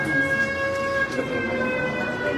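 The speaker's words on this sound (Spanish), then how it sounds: "Una ambulancia, un misil, una alerta de bombardeo" A played siren sound effect in the style of an ambulance or air raid alert wails as a steady, sustained tone over a low background hum, continuous and moderately loud.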